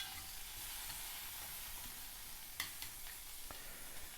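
Breakfast food sizzling in a pan as it is stirred with chopsticks, a faint, steady frying hiss with a few small clicks and taps.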